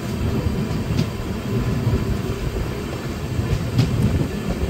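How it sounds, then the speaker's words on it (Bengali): A Humsafar Express train pulls out of Murshidabad Junction, a continuous rumbling roar of rolling coaches with faint clicks of wheels over rail joints, steady and close throughout. "ঐতিহাসিক স্টেশন মুর্শিদাবাদ জংশন কিন্তু ছেড়ে কিন্তু ট্রেন বেরিয়ে যাচ্ছে"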